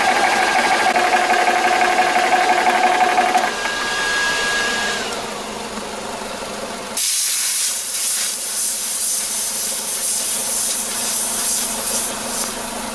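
A portable compressor refills a Brocock Commander PCP air rifle, giving a loud, steady mechanical hiss and hum with a tone that shifts partway through and then a brighter, harsher rushing hiss for the rest, close and continuous.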